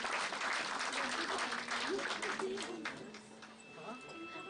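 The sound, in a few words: round of applause welcoming guests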